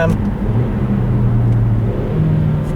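A 2018 Kia Stinger 2.0T AWD in manual mode, its turbocharged four-cylinder engine giving a steady, close, loud drone and cabin road rumble with a faintly shifting pitch, someone speaking over it.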